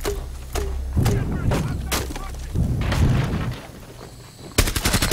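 Gunfire in the Rainbow Six Siege video game: sharp repeated shots and booms, closing with a rapid automatic burst, heard under players talking.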